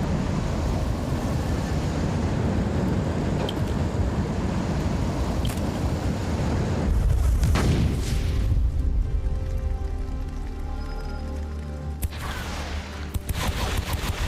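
Grenade blasts in the video game Warhammer 40K: Inquisitor - Martyr, a dense rumbling run of booming explosions over steady game noise, with a heavier burst near the middle and a couple of sharp late hits.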